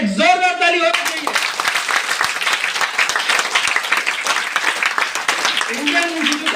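Loud, dense applause from an Indian business training audience, a steady wash of many hands clapping close by for several seconds after a brief voice at the start, with another voice rising again near the end.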